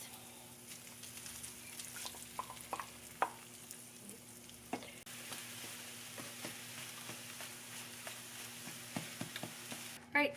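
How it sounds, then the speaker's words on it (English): Eggs go into a pan and fry with a soft, continuous sizzle, punctuated by light clicks and taps of a utensil, fairly quiet and close, with no talking. "So now I'm going to add my eggs."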